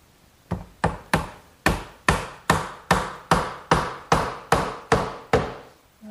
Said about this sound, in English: when I drive the dowel in, it'll get glued and it won't pop out later